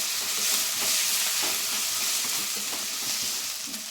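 Ginger garlic paste fries in a pan with onions, a dense, bright sizzle that stays loud and even while a spoon scrapes and stirs through it, close up with no talking.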